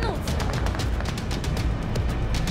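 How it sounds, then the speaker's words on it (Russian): Rapid gunfire from the video game Cyberpunk 2077 fills the moment, dense overlapping shots crackling steadily at close range with no pause, while a voice speaks faintly under the barrage. "Ты слышал выстрелы?"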